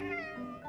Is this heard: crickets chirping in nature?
no